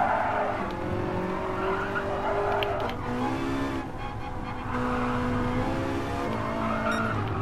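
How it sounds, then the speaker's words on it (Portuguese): A Bugatti with a W16 engine built from two V8s roars continuously in a racing game, with the pitch climbing and shifting as it accelerates, loud and close alongside tyre squeal. "Olha o ronco dele, velho, do Bugatti."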